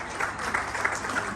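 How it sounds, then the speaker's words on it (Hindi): A crowd at a Dwarkadhish katha gathering in Coventry, UK claps in a brief, dense burst of applause that stays fairly even throughout. "उसके लिए भी बड़ी ताली आने से पहले प्लीज।"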